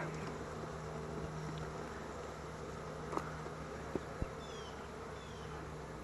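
Honey bees at an opened hive during a late-winter inspection, a steady, close droning buzz running throughout, with a few faint clicks and taps of handling.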